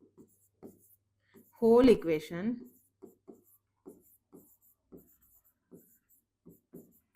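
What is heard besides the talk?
pen writing on paper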